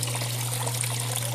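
Water runs steadily over a gold sluice miller table outdoors in a national forest, a close, soft trickling wash over a constant low pump-like hum.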